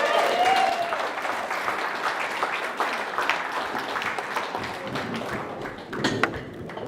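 Applause from an audience at a health and wellbeing night launch, a moderate, continuous patter of clapping with a few sharper taps and thuds near the end.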